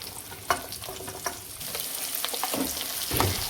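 Onions frying in ghee in a pan, a steady close sizzle with occasional sharper pops and stirring clinks, no talking.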